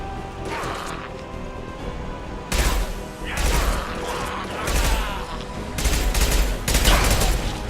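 Gunfire in the video game Mass Effect 2 on PC, repeated heavy bursts of shots and impacts over a steady background of battle noise.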